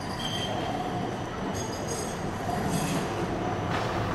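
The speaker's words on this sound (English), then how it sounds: "We see an 86 tram going to the waterfront arriving." A Melbourne route 86 tram pulls into a street stop heading to the waterfront, giving a continuous rumble of rail wheels and motor with high metallic squeals from the wheels, close and fairly loud.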